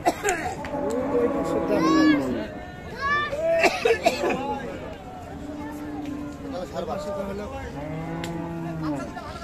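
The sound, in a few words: Holstein Friesian cattle mooing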